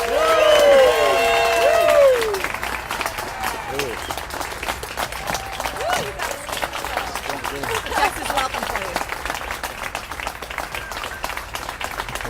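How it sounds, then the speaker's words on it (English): A crowd at a city job announcement claps and cheers for the JCB North America CEO, loud close applause with whoops and shouted voices, dense at first and then settling into steady clapping. "he deserves the loudest applause of all"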